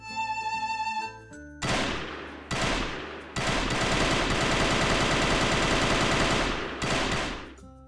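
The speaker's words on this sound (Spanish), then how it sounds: "quiero que escuchen el sonido de esta arma" Special gun firing in the Minecraft Actual Guns addon: loud, rapid automatic bursts with a dense rattling rhythm, several bursts in a row with a longer sustained volley in the middle, over a faint tonal game backdrop.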